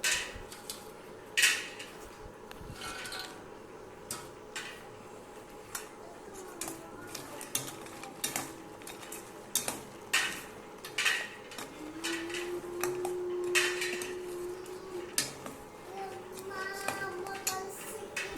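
A spoon stirring fried maida biscuits into sugar syrup in a pan, with steady scraping and clinking of metal against the pan through the whole stretch, close and moderately loud, with a faint voice now and then in the background.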